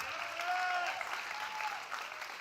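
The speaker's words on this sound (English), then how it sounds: "A round of applause for Fritz." Audience clapping at a dance music competition finals, a short burst of steady applause with a few faint tonal cheers or whoops over it.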